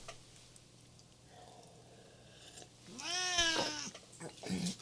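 A cat meows for food indoors, giving a loud drawn-out meow and a shorter follow-up call close by after a quiet stretch with faint background noise.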